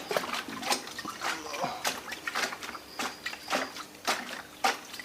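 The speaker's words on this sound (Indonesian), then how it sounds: "ramuan yang tadi bisa kita kocok ya seperti ini" A liquid organic pesticide mixture is shaken in a container, producing a rhythmic series of close sloshing splashes, each burst quickly following the last.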